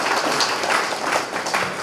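A seated audience at a transporters' meeting bursts into steady applause, a dense even wash of clapping from many hands across the hall, brief and unbroken.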